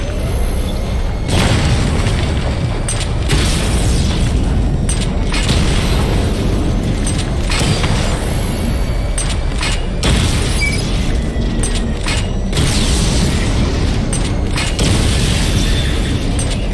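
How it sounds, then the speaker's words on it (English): Batmobile missile barrages in Batman: Arkham Knight set off a dense, continuous string of heavy booms and explosions, with mechanical whirs and sharp bursts repeating over about seventeen seconds. "Charge the missile barrage to level 2 to destroy up to 4 targets at once."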